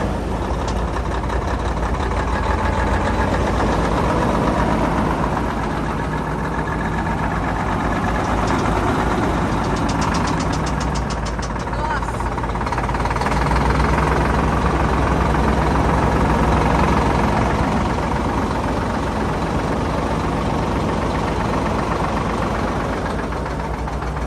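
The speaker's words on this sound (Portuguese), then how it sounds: "Vou deixar aqui pertinho no motor pra vocês escutarem como é que tá aí." A vehicle engine idles just after being started, recorded right beside the motor: a loud, rough, steady rumble with a knocking texture and slight swells in level, no talk.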